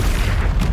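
A Bombarda blast spell going off in the video game Hogwarts Legacy, a single short heavy boom that fills the moment, loud and close.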